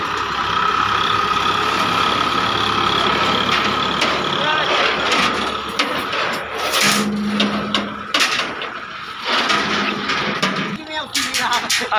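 A heavy Ford tractor engine rumbles steadily throughout, with clattering and mechanical knocks over it and a brief higher whine partway through.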